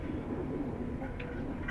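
Pigeons cooing softly and steadily at a pigeon-keeping loft in Okhla, a low continuous murmur of several birds close by with no talking over it.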